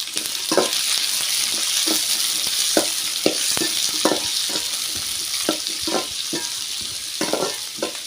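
Curry leaves, garlic and onion sauté in hot oil for a simple kara kuzhambu, a loud steady sizzle broken by repeated spoon scrapes and stirs against the pan, with no voices.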